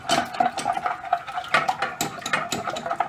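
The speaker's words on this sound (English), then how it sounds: "Now we're going to whisk them up with a wooden spoon." Four eggs are whisked in a pan with a wooden spoon, giving a close, fast rhythmic tapping and scraping against the pan with no voices.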